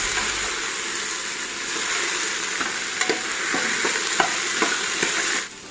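Ginger garlic paste roasting in a hot pan for mutton biryani, a steady close sizzle and hiss with scattered spoon scrapes and stirring clicks, no voices.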